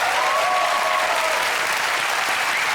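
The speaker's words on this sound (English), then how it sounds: "give her a round of applause" Studio audience applause on a British comedy quiz show, loud, dense and continuous clapping from a full crowd with faint cheering mixed in.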